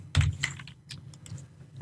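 Code being typed on a computer keyboard, a short run of quick, uneven clicky keystrokes with one heavier tap at the start, close and fairly quiet, with no one talking.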